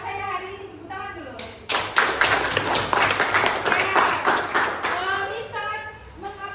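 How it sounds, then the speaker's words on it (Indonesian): Classroom of vocational school students applauding together, a dense burst of clapping rising after a brief pause and running steadily for several seconds, with children's voices and chatter mixed in. "Tepuk tangan dulu."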